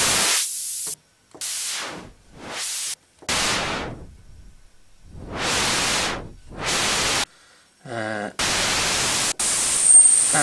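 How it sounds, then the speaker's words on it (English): Bursts of filtered noise from a Nord Lead 3 synthesizer switch between low-pass, band-pass and high-pass settings. The hissing blasts start and stop abruptly, some fading out and one carrying a fluttering, resonant texture. "we have a selection here of a low pass, band pass, or high pass noise filter."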